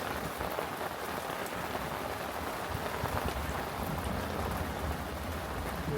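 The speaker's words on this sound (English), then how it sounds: "now we've got a bit of a thunderstorm going on and a bit of rain" Steady rain falls on surfaces at a fishing lake during a thunderstorm, a dense, even patter that continues unbroken throughout with no talk.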